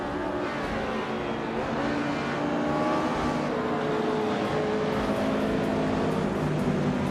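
A 1991 Honda CRX and rival cars roar together at a streetcar race start at Estral Retro, a steady dense engine drone holding loud and continuous with no voices.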